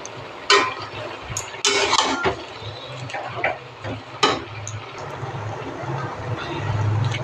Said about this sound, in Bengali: শাকটা দিয়ে ভালো করে একটু নেড়ে নেবো।